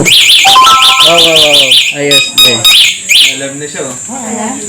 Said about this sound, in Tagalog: So if you want to put the alarm on, There's an alarm.